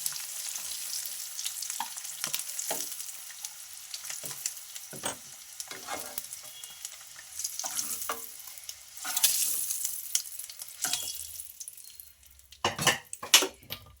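Eggs fry in oil in a pan with a soft continuous sizzle, broken by scraping stirs and clinks of a utensil against the pan, growing louder near the end.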